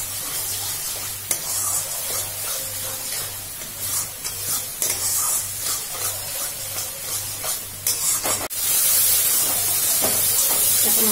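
Spice paste sizzles and hisses as it fries in a pan, with stirring and scraping throughout, then a sudden louder burst of steamy hiss near the end.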